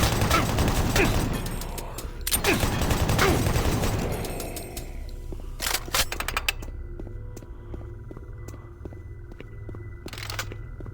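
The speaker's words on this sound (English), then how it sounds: "They have chain guns now." Rapid chain gun fire in the video game Doom 3 rattles loudly through the first few seconds amid dense combat noise, then gives way to quieter mechanical clicks and a steady electronic hum.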